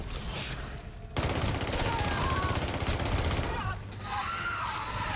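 Rapid automatic gunfire from the video game Call of Duty Zombies, on the Der Anfang map; a dense, sustained burst of shots rattles for a few seconds, then drops back to a quieter game background.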